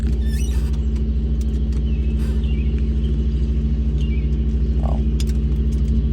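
A 1976 Chevrolet Corvette with a 4-speed runs at a steady, deep idle, a low throbbing rumble close by with faint clicks and jingles over it.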